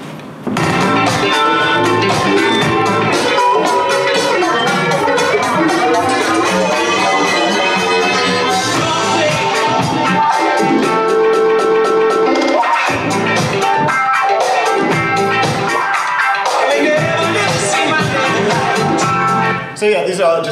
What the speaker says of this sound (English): So metalize is just this weird kind of like effect I made.